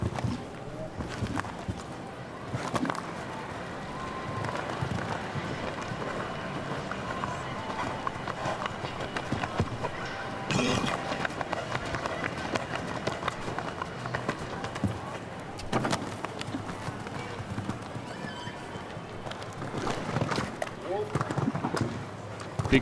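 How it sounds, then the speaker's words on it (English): A show jumping horse gallops around the Spruce Meadows arena with steady, rapid hoofbeats at mid distance. An announcer talks over them throughout the course. "Strided horse now being asked to open up that stride for Spooner"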